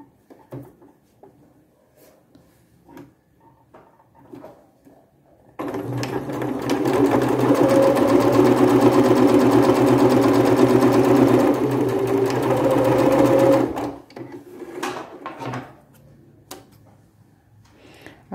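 A sewing machine stitches fabric scraps in one continuous, loud, fast-rattling run of about eight seconds, preceded and followed by quieter handling clicks and rustles.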